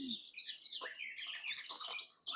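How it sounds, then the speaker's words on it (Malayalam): A small bird in a comedy film scene gives quick, bright chirps and twittering calls in a rapid run, close and fairly clear against a quiet background. "പേര് പറഞ്ഞപ്പോഴേ കൂവാൻ തുടങ്ങിയല്ലോ, എന്തൊരു അനുസരണമുള്ള പക്ഷി"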